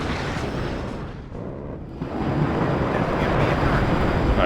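Double A-10 strafing run in the war game WARNO: a loud, sustained roar of cannon fire and impacts that dips briefly, then swells into a dense, continuous rumble.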